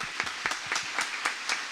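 A church congregation claps steadily with sharp, regular rhythmic claps, like a group clapping together in a large room.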